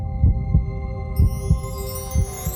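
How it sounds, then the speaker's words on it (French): A heartbeat sound effect rises from a tomb in the Phantom Manor cemetery at Disneyland Paris: paired thumps repeat at a steady rhythm over a sustained low hum, with a rising tonal sweep partway through. "Dans une des tombes du cimetière de Phantom Manor, vous entendez des battements de cœur."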